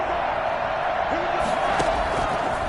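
A stadium crowd roars in an American football video game, a steady loud wash of noise with a few thumps and swells, while a commentator's voice talks over it.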